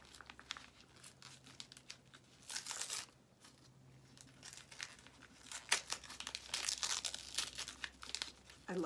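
Adhesive tape is pulled and handled at close range while mail is unpacked in a studio, giving bursts of crinkly tearing and crackling separated by brief quieter gaps.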